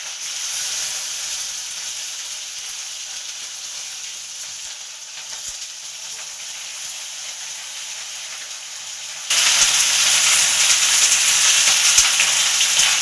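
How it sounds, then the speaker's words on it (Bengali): Cauliflower and potato frying in a pan, a steady crackling sizzle like light rain that jumps louder and brighter partway through. "আমার ফুলকপি আলু ভাজতে দিয়েছি"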